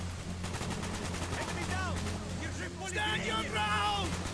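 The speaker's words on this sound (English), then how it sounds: "Using a minigun to mow down all the enemies." A minigun in Call of Duty Black Ops fires at a rapid, rattling pace, a steady stream of shots under a low mechanical drone. Shouting voices cut across the firing as it carries on without a break.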